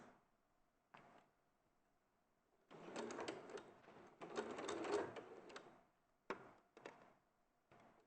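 Quiet bursts of a sewing machine stitching a quarter-inch seam: short stop-start runs, then a longer rapid mechanical whirr of a couple of seconds, followed by a few brief clicks and pauses.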